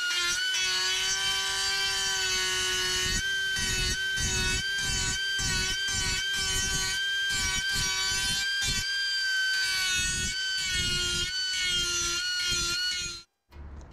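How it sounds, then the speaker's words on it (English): A grinder works steadily on weld tacks on an aluminium car panel, a loud continuous whine with shifting gritty grinding under it, running nearly the whole time before cutting off abruptly at the end. "Next step is I'm just going to grind it so that my weld is as even as possible."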